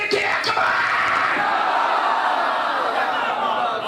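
A large crowd loudly chants religious slogans in unison at a religious gathering, a dense sustained roar of many voices that fills the whole stretch.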